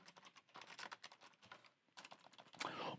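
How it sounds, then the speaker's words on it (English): Rapid, close clicking of keys on a computer keyboard, with a short pause partway through before the typing resumes. "start typing right into their notebook."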